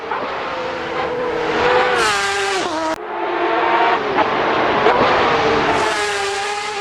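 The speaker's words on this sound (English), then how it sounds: "Trying to get the car settled, braking into that left-hander." A GT race car at the SR604 Festival of Speed 2020 braking hard into a left-hand corner, the loud engine dropping through downshifts with a brief tire squeal before revving back up.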